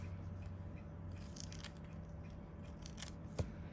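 Scissors snip through kinesiology tape in a quiet room, with several close, crisp cuts in quick succession against a low electrical hum.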